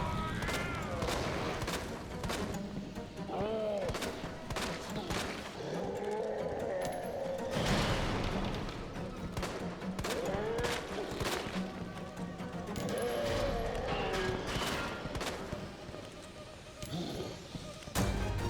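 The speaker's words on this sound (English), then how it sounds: "taking pop shots with the handgun and the odd flame round" Handgun shots and bursts of flame rounds fired at Birkin in the Resident Evil 2 Remake video game, sharp repeated reports within a busy, continuous game soundscape, with a voice talking over much of it.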